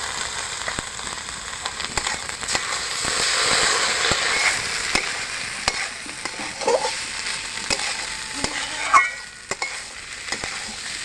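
Cumin and ginger masala paste frying in a pan, a crackling, spitting sizzle that swells and fades, with scattered clicks of a spatula and a louder pop toward the end; nobody speaks.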